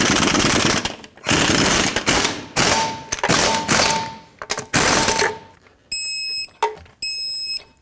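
Lug nuts on a 1996-2002 Toyota 4Runner wheel being snugged up with a loud pneumatic impact wrench, several rapid hammering bursts separated by short pauses, close and with no talking.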